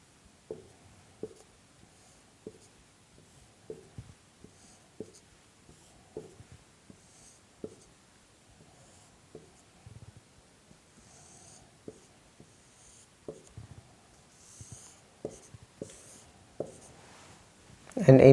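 A pen draws lines on paper in a string of short scratchy strokes, close and fairly quiet, with a few louder rustles near the end.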